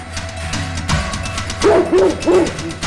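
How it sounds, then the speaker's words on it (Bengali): A dog barks indoors in a short run of three or four loud, close barks that rise over a low background murmur, with no speech. "কুকুরটা এত চেঁচাচ্ছে কেন বলতো?"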